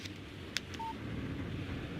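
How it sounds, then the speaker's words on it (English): A short electronic text message alert tone sounds from a phone in the video game Alan Wake, a single brief beep over a low background hum. "Text message from Barry."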